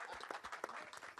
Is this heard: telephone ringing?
no